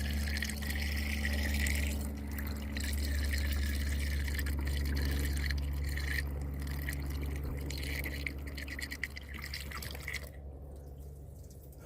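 Water pours and trickles steadily into the cooling system of a 2005 GMC Sierra pickup, a continuous liquid splashing for several seconds that thins out and drops away near the end; no talking.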